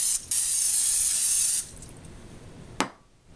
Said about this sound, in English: Now I'm going to spray my glass dish with this Pam so that it won't stick.